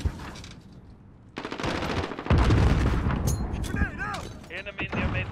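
Sniper shots and gunfire in a shooter video game, heard as a burst of loud shots and dense firing with game effects, clear and close, with talk partly over it.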